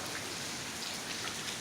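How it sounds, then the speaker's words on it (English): Steady rain falling as a heavy downpour begins to let up, a dense, even hiss of drops with no other sounds. "As the rain now lets up."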